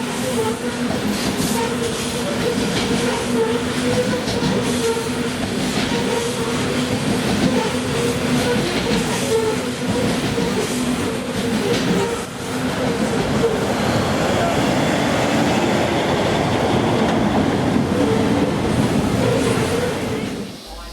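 A 600/700 class diesel locomotive train on the Hunter Valley line rumbles past with a steady loud roar and clatter of wheels for about twenty seconds, close by.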